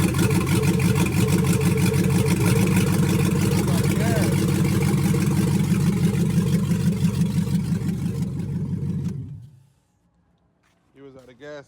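A 1988 Monte Carlo with an LS swap idles loudly and roughly close by for about nine seconds, then shuts off into quiet, with a voice talking over the engine and again briefly afterward.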